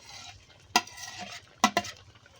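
Prawns cook in a pan for prawn malai curry under a quiet, low frying sizzle. A spoon stirs them with three sharp clanks against the pan, close by and without speech.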